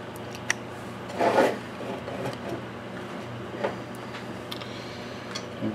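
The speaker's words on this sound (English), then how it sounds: "we'll get the fiberglass pen and fix these pads" Scratchy, rasping strokes from a fiberglass pen scrubbing circuit board pads on an arcade monitor chassis, close and moderately loud over a steady background hum, with a few ticks along the way.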